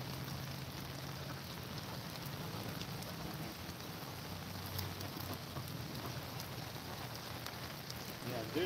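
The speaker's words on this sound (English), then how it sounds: "I'm shaking the rain off the top of my umbrella." Steady rain falls at a duck pond in the Smoky Mountains, a continuous dense patter close by with no letup and no talk over it.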